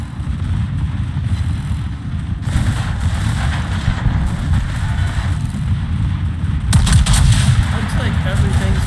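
Naval game broadside with a battleship, the Montana, firing at an Azuma cruiser: a dense, continuous rumble of heavy gunfire and explosions, loud throughout, swelling near the end.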